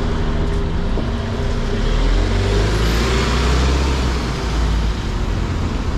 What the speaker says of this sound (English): There goes the 557, operated by Falcon coaches, Falcon buses